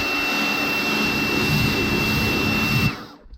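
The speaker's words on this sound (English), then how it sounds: "I'm just literally going to jet the car first, try and blow off all the dust" A steady, loud rushing hiss of high-pressure spray from a pressure washer rinsing dust off a car runs continuously, then cuts off abruptly near the end.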